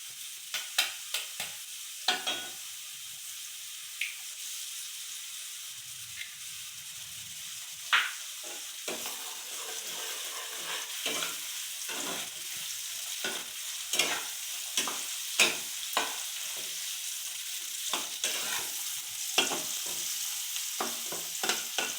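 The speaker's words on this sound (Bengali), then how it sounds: "আমি এর মধ্যে এখন ডিম ফাটিয়ে দিচ্ছি।" Eggs sizzle and crackle in a hot pan with fried vegetables while a utensil stirs and scrapes repeatedly, sharp clicks punctuating the steady frying hiss throughout.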